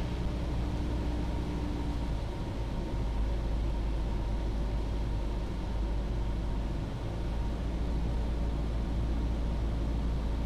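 A Cessna light aircraft's cabin fills with a steady, loud engine drone and broadband rushing noise during descent, constant throughout with no talking.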